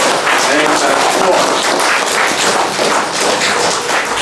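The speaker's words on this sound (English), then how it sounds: "A big round of applause for this student." A school assembly audience claps for a student after a class performance, a steady dense wash of applause filling the whole stretch with some voices mixed in.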